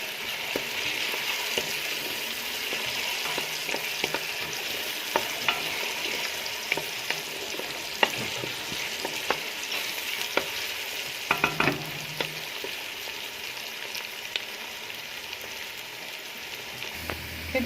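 Onion frying in a pot for stuffed cabbage gives a continuous close crackling sizzle, with scattered stirring clicks and scrapes of a utensil throughout and no speech.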